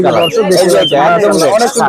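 Caged birds at the Friday Mirpur 1 bird market, with shrill chirps and calls overlapping loudly and close, mixed with voices talking nearby.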